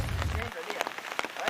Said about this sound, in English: in the Houston area, the downpour flooded streets